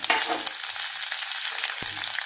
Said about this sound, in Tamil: இப்போ எண்ணெய் ஊற்றி கடுகு வெந்தயம் போட்டுருக்குறேங்க